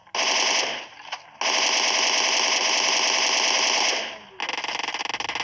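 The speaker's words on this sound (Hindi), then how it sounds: "मैं इसको लेटे लेटे गोलियां मार रहा था" Sustained bursts of rapid automatic gunfire in a video game, loud and close, broken by a brief pause near the start and a short gap before a final volley.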